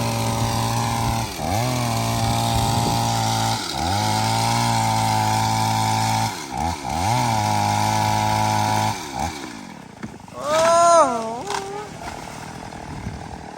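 A Stihl chainsaw drones steadily close by, its engine dipping and revving several times as it bites into a tree, then whining up in pitch near the end.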